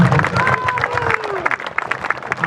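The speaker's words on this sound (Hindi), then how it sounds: "जोर से तालियों के साथ खुदा की तारीफ करो।" A church congregation claps loudly in praise during a Sunday Hindi worship meeting, a dense wash of hands mixed with cheering voices and a rising musical tone underneath, steady for a few seconds.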